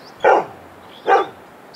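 Two barks from a dog in the hunting game Hunting Simulator 2, spaced about a second apart, fairly close and clear with nothing else in the scene.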